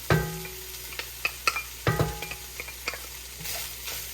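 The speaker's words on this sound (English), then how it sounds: "I'm gonna add the garlic now." Garlic sizzling with softened onions in a pan for tortellini soup with Italian sausage and kale, a close steady fry punctuated by sharp clicks and scrapes of a spoon stirring.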